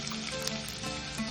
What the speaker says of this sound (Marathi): आता मी आमटीसाठी फोडणी करते। तिथे 1 चमचा तेल